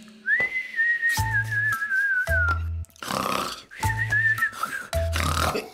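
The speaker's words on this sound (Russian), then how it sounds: "Кто это свистел?" Someone whistles in an animated children's cartoon: long sliding whistled tones repeated twice, broken by short comic grunting sound effects, clear and close.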